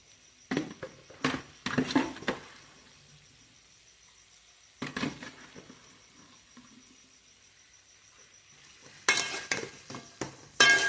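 A spoon stirring spice mix through amla pickle, bursts of wet scraping and clinking separated by quiet pauses, close by, no talk.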